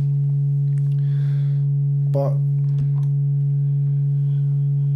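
A Serge NTO synthesizer oscillator holds a loud, steady low sine tone without a break, while a voice briefly speaks over it.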